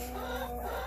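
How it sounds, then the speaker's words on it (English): Roosters clucking in a farmyard, a soft continuous murmur of fowl calls set against a steady humming background, fairly quiet and distant with no talk. "That's just roosters."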